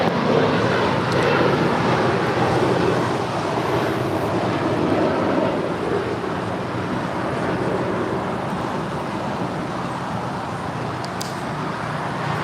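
An Alaska Airlines airliner departs at LAX, a broad, steady roar of jet engine noise that holds loud and even throughout, slowly easing off toward the end, with no talk over it.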